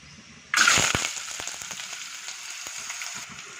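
Chopped onion drops into hot oil with mustard and cumin seeds. A sudden loud sizzle bursts up and then settles into steady crackling frying with a few pops.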